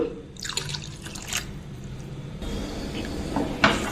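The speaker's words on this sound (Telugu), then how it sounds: "ఇప్పుడు కొంచెం వాటర్ వేసుకుందాం మనం" Water is poured into a pot of thick lentil dal, probably with drumstick leaves, giving a close, steady trickling and dripping splash that runs for a few seconds and ends with a brief clink.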